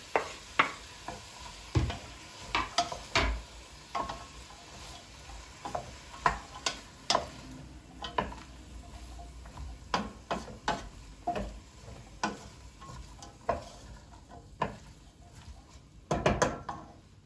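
Tomatoes frying in a pan for a home dinner, with a steady soft sizzle under repeated sharp clicks and scrapes of a utensil stirring against the pan, close by and with no talking.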